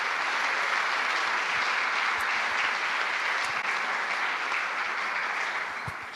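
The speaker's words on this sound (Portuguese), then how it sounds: "Vamos aplaudir o Senhor." A church congregation applauding in praise, dense sustained clapping from many hands that fills the room at a steady loud level throughout.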